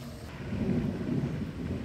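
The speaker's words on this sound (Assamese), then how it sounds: "বিজুলী মাৰি আছে যথেষ্ট" Low rolling thunder rumbles steadily through a rainstorm outdoors by a roadside, with wind and rain noise blended into a continuous dense roar.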